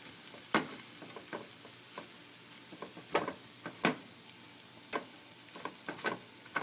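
Onions and garlic sizzle softly in a pan for a vegetarian shepherd's pie, punctuated by sharp scraping taps of stirring at an irregular pace, fairly faint and without talk.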